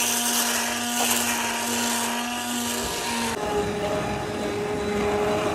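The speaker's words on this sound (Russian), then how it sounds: "Все, отключаю плиту, пробиваю блендером." An immersion blender whirs steadily through cooked apricot or cherry nectar, a loud continuous motor whine that shifts pitch partway through as the fruit breaks down.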